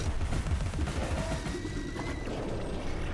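Rapid bursts of pepper grinder gunfire in Alice Madness Returns, loud and continuous for a few seconds with dense crackling shots and no talk.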